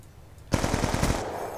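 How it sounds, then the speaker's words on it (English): A BWD gun in Call of Duty Black Ops 2 multiplayer fires one loud, rapid burst of shots that lasts under a second, after a quiet start. "I like to play with the BWD. I don't know why, but fire rating is so good."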